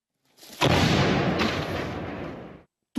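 A single heavy artillery blast booms out, its roar rolling and slowly fading over a couple of seconds before a sharp cutoff.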